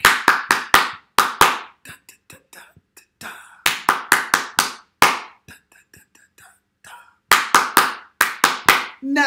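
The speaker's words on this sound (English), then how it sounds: "Don't clap this one back" Rhythmic hand clapping in a clap-back game: loud runs of quick claps that stop abruptly, with softer scattered taps and faint murmuring in the gaps.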